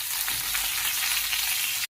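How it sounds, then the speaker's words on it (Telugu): Curry leaves frying in hot oil in a pan for a Telugu okra fry, giving a dense, continuous close sizzle that cuts off abruptly, with no talk. "కరివేపాకు కొద్దిగా వేసుకొని ఫ్రై చేసుకోవాలి."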